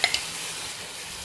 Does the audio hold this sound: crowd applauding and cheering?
no